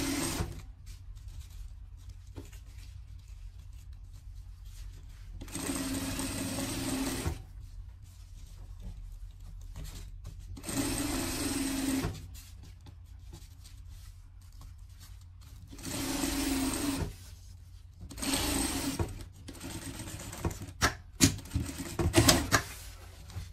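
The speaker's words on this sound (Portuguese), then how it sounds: "Vamos passar uma costura aqui agora." A sewing machine stitches a seam on a pet carrier bag in several bursts of steady, rapid mechanical whirring, separated by quiet pauses and handling noises, close and fairly loud.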